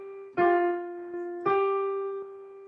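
Two sustained instrument notes, F then G a whole step higher, sound one after another, each plucked clearly and left ringing with no talking.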